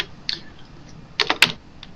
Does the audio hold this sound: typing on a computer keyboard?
yes